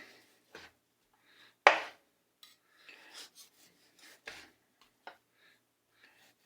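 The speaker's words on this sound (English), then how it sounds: "So I'm just going to slice this all up." Knife slicing through cold cooked pork with a fat line on a cutting board, a series of close, quiet rasping cuts and soft taps at an irregular pace, one sharper knock standing out, no talking.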